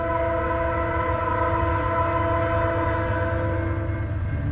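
CN freight train Q198 led by a rebuilt C6M locomotive, number 3405, passing at Ladysmith, Wisconsin, with a loud, steady sustained horn blast over continuous rumbling wheel and engine noise throughout.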